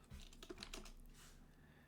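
A computer keyboard clacks in a few quick, soft keystrokes over a quiet hum, close but faint.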